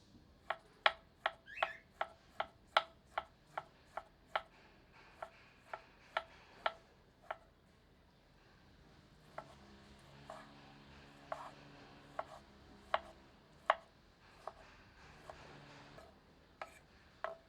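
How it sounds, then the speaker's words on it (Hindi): A knife finely chops tomatoes steadily on a board, crisp regular taps in quick succession with a short pause midway, close and clear with no talking. "2 मध्यम आकार के टमाटरों को बारीक काट लेते हैं।"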